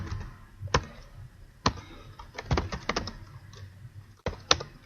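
Computer keyboard typing while entering an SQL query, with irregular bursts of key clicks and a few louder isolated taps, close and fairly quiet with no talk.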